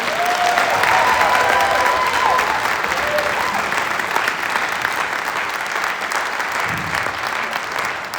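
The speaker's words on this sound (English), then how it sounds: "Give them one more round of applause." Audience applause for a district honor band of 11th and 12th grade students, a broad steady wash of clapping from a crowd filling the hall, continuous and fairly loud throughout.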